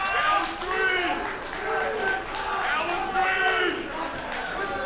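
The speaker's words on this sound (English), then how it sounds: "we got a ruckus crowd, as we always do here in Waterford" A rowdy crowd at an independent wrestling show in Waterford cheers and chants in rising and falling waves, loud and continuous, with excited voices mixed through the roar.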